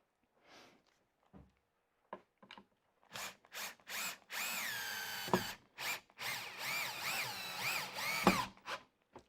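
A power drill drives a screw into a timber pilot hole in a woodworking shop, with short trigger bursts building to longer whining runs as the screw seats, close and fairly loud.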